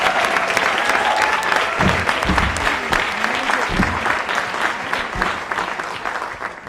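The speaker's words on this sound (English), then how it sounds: "Can we give a round of applause for all the panelists and moderators for tonight?" A roomful of people applauding panelists and moderators at the close of an evening forum on ending the incarceration of women and girls, sustained steady clapping with a few low thumps and some voices underneath.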